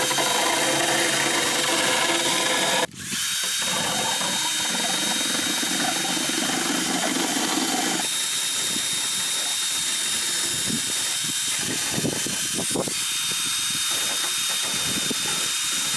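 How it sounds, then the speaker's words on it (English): A power drill fitted with Dremel bits sands a car's front bar, a steady broadband whirring grind running close and loud, with a sharp break near three seconds and rougher, uneven scraping texture afterward. "I don't have a Dremel, but I've got a drill, so we're going to use these Dremel bits on the drill."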